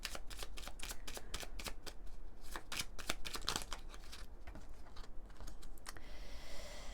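Oracle cards are shuffled for a reading, a quick run of crisp riffling slaps and flutters close up, repeating in bursts for several seconds with no voice.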